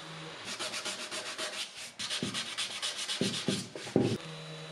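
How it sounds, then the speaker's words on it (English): Final sanding by hand with 220-grit on the edges of a wooden furniture piece being restored: steady, close back-and-forth rasping strokes that repeat rhythmically with brief pauses and a few heavier scrapes near the end. "Now we can do some final sanding on the edges here and 220 throughout the entire piece"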